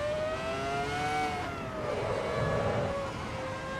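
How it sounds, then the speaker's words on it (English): Ferrari F2004 V10 Formula 1 engine in the Assetto Corsa EVO racing game, a loud continuous high-pitched scream rising and falling through the gears with a brief lift mid-run. "the sound, the glorious V10"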